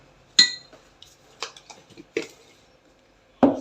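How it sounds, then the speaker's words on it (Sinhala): A teaspoon clinks against a bowl while aloe vera gel is spooned in for a homemade Ayurvedic shampoo, giving a few sharp, close clinks and soft scrapes separated by pauses, with no speech. "aloe vera gel තේ හැඳි දෙකක් මේකට එකතු කර ගන්නවා."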